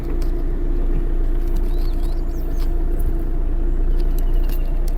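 A Hyundai i20 diesel car backing up an incline, its engine giving a steady, close low rumble throughout with no voices.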